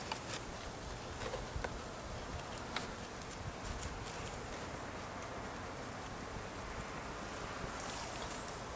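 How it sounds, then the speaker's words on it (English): Honey bees swarm and buzz continuously while being added to a top bar hive outdoors, a dense steady drone close by with occasional faint knocks and handling sounds, no voices. "A few bees got out, that's okay."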